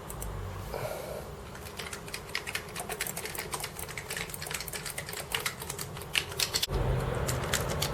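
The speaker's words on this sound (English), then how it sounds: "Let's go into the keyboard test." Computer keyboard under test, keys pressed in quick irregular bursts of crisp clicks and clacks, fairly close and moderately quiet over a low background hum.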